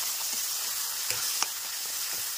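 Coriander paste with cumin and black pepper powder sautés in a pan for katla fish curry, making a steady soft sizzle and hiss with a couple of light stirring clicks.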